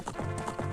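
Epona, Link's horse in the video game Zelda: Ocarina of Time, gallops in a steady rhythm of hoof clip-clops over a continuous game background, close and clear with no talking.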